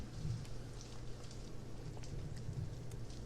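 Freezing rain falls steadily in a continuous, dense patter with a low background rumble, close and even throughout, with no voices.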